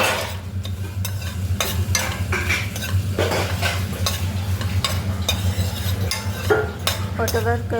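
Chicken dry fry stir-fried in a pan: a constant low sizzle runs beneath repeated sharp scrapes and clinks of a spatula against the metal, close and busy throughout.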